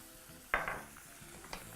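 Ginger frying in a pan for chole, stirred through: a sharp burst of sizzle and scraping around the middle, then fading to a soft background crackle with a faint clink near the end.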